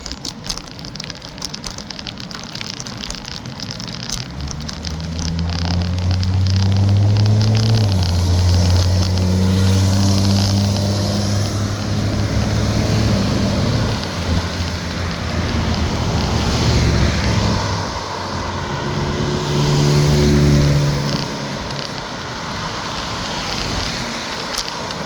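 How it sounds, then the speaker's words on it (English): Cars passing on a road beside a BMX bike ride, two long roaring swells of traffic rising and fading, loud and close, with steady wind-like rumble between them. "You don't hear the bike anymore, you hear all the cars."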